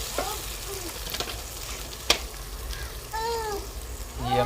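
Masala browning in a pan for matar gosht, cooked village style over a wood fire, gives a steady close sizzle with a few sharp clicks of stirring, while faint tonal sounds rise in the background.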